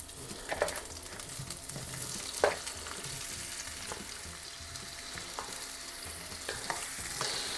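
Pumpkin pieces frying in a pan for a Maharashtrian fasting dish, a continuous low sizzle with occasional scraping knocks of a spoon stirring, close and quiet with no voices.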